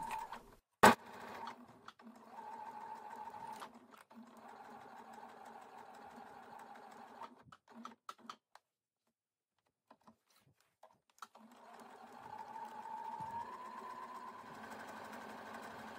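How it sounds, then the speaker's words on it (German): Sewing machine joins a jersey sleep mask seam with a jersey needle, a quiet humming whir in two long runs separated by a pause and a few clicks. "Nun wird das von Nadel zu Nadel aufeinander genäht."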